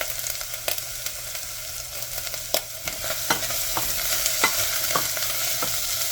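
Kashmiri red chilies with garlic and onion fry in a pan, a steady sizzle broken by sharp scrapes and clicks of stirring, close and fairly loud, with no voices.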